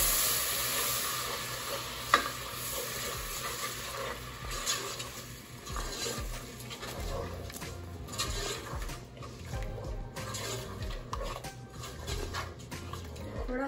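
Tomato paste made from two medium tomatoes goes into hot oil, giving a low, steady sizzle with scraping stir sounds and a sharp clink near the start, quiet and close.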